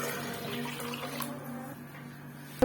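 Water poured into a pot of kadhi made with yogurt, a steady running, splashing pour that continues through the whole short stretch at moderate level, with no talk over it.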